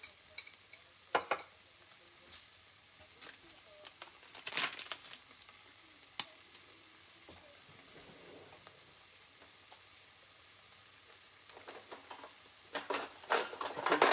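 Curry leaves and ginger garlic paste fry in a pan for meatballs in tomato sauce, a faint sizzle under scattered scrapes and clinks of a stirring spoon, with louder bursts of stirring near the start and end.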